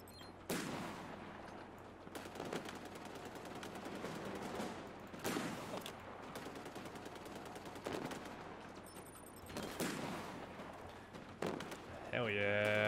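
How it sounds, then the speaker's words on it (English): Halo Infinite gunfire, repeated sharp shots and bursts scattered through a busy game scene with explosions, loud near impacts alternating with quieter spells, and a voice talking at points amid the action. "who's shooting at me now?"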